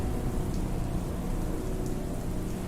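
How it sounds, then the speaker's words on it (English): Steady rain falls in a soundtrack piece from The Nightmare Before Christmas, a constant close hiss of raindrops with occasional brighter drips, heard alone. "There's literally more rain sounds than music in this piece."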